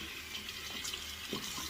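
Water runs steadily from a tap while a shaving brush is soaked, a continuous close hiss and splash with small shifts in the flow, no speech.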